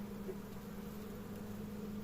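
Thick, continuous buzzing of a crowded nine-frame honeybee colony opened for a spring inspection, low and steady, heard up close and alone.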